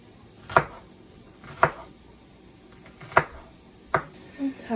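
Green beans sliced thin lengthwise on a cutting board for a bacon green bean side dish: four sharp, separate knife chops spaced about a second apart, with faint kitchen background noise between them.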